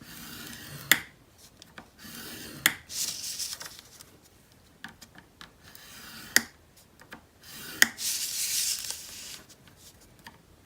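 Blade scoring a board along one long side and both short sides, heard as several sharp isolated scrapes and ticks with brief raspy rubbing strokes between quiet gaps, close and fairly faint.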